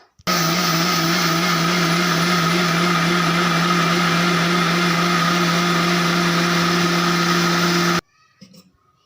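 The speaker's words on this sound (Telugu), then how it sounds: "ఇప్పుడు మీ మూత పెట్టేసుకొని మిక్సీ అయితే పట్టేసుకుందాం ఇంకా" Mixer grinder whirs steadily and loudly for about eight seconds blending soaked little millet with its water for dosa batter, then cuts off abruptly leaving faint clatter.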